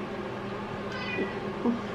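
A pet cat meows indoors, two or three short, fairly faint calls over a steady background hum, with no voices.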